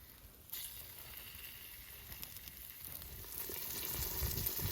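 Oxtail browning in a cast-iron potjie over a wood fire gives a soft, steady sizzle and hiss that grows slightly louder toward the end, with no talking.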